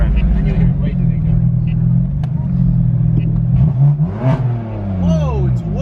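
Boosted Ford Mustang revved in neutral with the exhaust open, a loud, close engine drone rising and falling through several throttle blips, with people talking over it.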